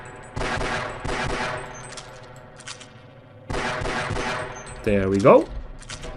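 Pistol shots from the Half-Life video game fired at bull squids come in bursts of rapid gunfire, two quick volleys, then a pause and another volley, followed by a creature's squealing cry; someone speaks briefly over it.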